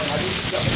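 A steady, even hiss of heavy rain falls throughout, dense and constant with no breaks, in Soledade.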